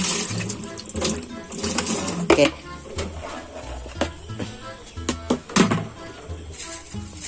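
Running water splashes continuously, with clattering and rubbing like hands being scrubbed under a tap, while a voice talks intermittently.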